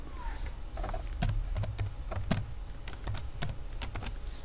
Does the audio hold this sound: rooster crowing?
no